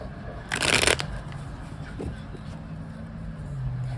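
A short burst of tarot cards being riffled and shuffled, loud and close, lasting about half a second, followed by quiet room noise and faint handling.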